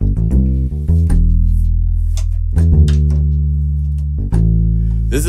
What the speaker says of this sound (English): This is the U-Bass.